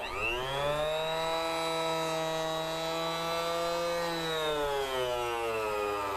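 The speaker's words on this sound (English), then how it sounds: "That saw is a little underpowered." A small, underpowered powered saw cuts fret slots in a guitar fretboard made from colored pencils, with a steady, buzzing motor whine that sags slightly in pitch toward the end and continues alone throughout.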